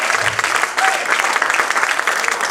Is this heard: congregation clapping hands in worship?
yes